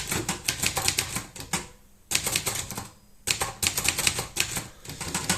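Rapid clattering keystrokes on a Brother 210 manual typewriter, loud and close, typed in two bursts separated by short pauses, with no talking.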